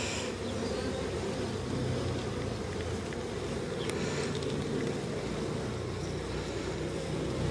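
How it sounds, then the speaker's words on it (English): Honey bees swarm thickly around a packed, freshly opened beehive during an inspection, a dense, steady buzzing hum that fills the whole stretch close to the listener, with no talking. "wow, this hive is absolutely rammed"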